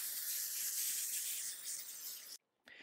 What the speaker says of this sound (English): I got a little bit of non-stick vegetable oil spray, so I'm going to use that.